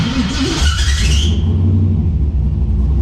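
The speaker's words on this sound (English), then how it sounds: "See how much quicker it starts, lowering that RPM, the cranking RPM." An engine tuned with a Holley Terminator X cranks briefly and then catches, settling into a loud, steady low rumble at close range.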